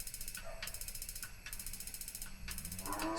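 Repeated clicking from the spark igniter of a Coleman Northstar gasoline lantern, a faint, rapid ratcheting that comes in a few short bursts over low background noise.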